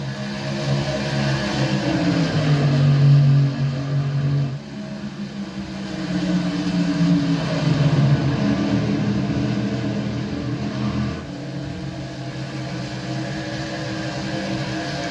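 Racing trucks roar around the Pocono triangle, a steady sustained engine drone with shifting pitch as they pass, loud and continuous with no voices.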